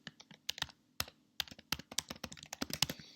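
An email address being typed on a computer keyboard: a quick, irregular run of light, close key clicks, fairly quiet, with no voices.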